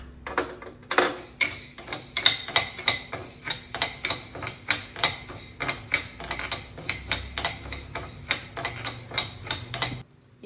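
Chana dal is dry-roasted and stirred in a pan, giving a regular stream of close metallic scrapes and clinks, roughly two per second, ending abruptly.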